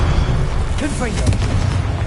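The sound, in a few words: Confringo explosive spell blast, Hogwarts Legacy video game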